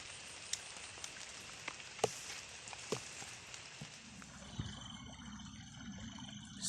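Steady rain falls outdoors during an overcast fishing outing, a soft continuous hiss with scattered drop taps and a few sharper patters, fairly faint and with no talking.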